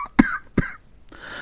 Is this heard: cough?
yes